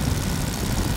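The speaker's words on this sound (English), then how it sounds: "Absolutely fantastic aeroplane, the Tiger Moth." A 1930s de Havilland Tiger Moth biplane in flight during tight wingtip turns: a loud, steady low engine drone with rushing wind noise, continuous and close, with no voices.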